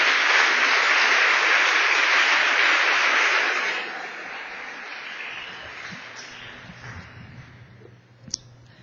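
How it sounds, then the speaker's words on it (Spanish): A church congregation applauding during a Sunday service, a dense loud wash of clapping that holds steady, then thins and fades into scattered claps and a single sharp knock near the end. "Denle un aplauso al Señor."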